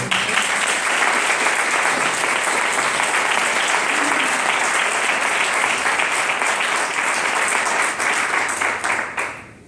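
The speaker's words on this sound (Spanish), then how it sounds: "iba a pedir un aplauso para él." An audience at a book presentation for a novel gives warm, sustained applause, a full steady patter of clapping that carries on for nearly ten seconds before fading out at the end.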